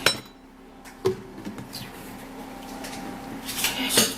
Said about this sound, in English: Now I'll have to stir, and this is how it looks like.